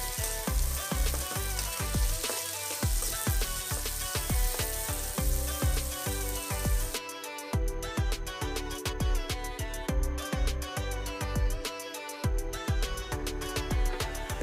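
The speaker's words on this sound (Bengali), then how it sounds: "তেলগুলো গরম হয়ে আসলে আমি এর মধ্যে কেটে রাখা পেঁয়াজ কুচিগুলোকে দিয়ে দিব" Chopped onions hitting hot oil in a pan for a rohu fish curry, a bright crackling sizzle with rapid popping, steady and close, no talking.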